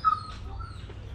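A dog gives a brief, faint whine or yip at a casual secondhand clothing sale, one short high cry at the start over a low background rumble.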